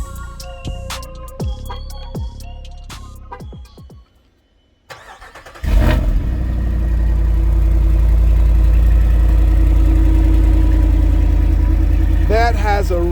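A 2022 Grand Wagoneer's 6.4 liter V8 Hemi cold-starts after a short pause, cranking into a loud, deep roar that settles into a steady, high fast idle up close, with a brief chirp near the end.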